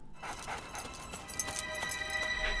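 A dog in a game or audio drama scene, panting and whimpering softly at close range over a steady bed of ambient noise, with no speech.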